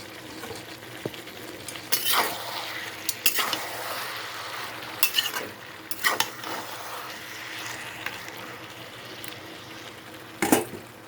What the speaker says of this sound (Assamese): ভালদৰে ইয়াক মিহলাই প্ৰায় 5 মিনিটমান সময় এনেকৈ সময় ভাজি ল'ম।